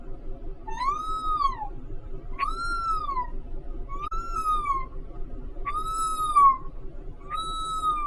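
A person imitates a kitten's meow with five short, rising-then-falling mewing calls, evenly spaced and fairly clear over a quiet background.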